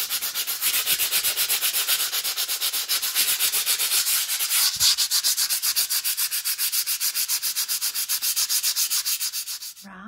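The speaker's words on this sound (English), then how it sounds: "So I've sanded all this." Steady rhythmic sandpaper strokes rasp over a surface during DIY decorating, a fast, even back-and-forth scratching heard close and alone for about ten seconds before it stops.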